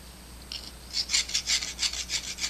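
A flat file rasps across the outside of a silver ring in a run of about nine quick, even strokes. The strokes are close and crisp and start after a short quiet pause, with no talking.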